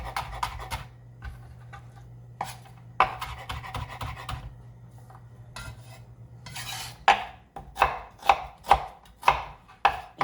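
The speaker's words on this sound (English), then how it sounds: "and then my onions, just about 1 medium onion, should be good. Get this all diced up." A medium onion being diced with a knife on a cutting board, bursts of quick chopping taps, then a steady run of six or seven louder, evenly spaced chops near the end, close and crisp.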